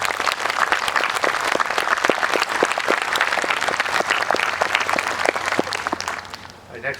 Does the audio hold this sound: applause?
yes